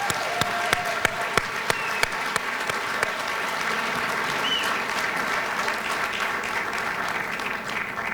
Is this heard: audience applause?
yes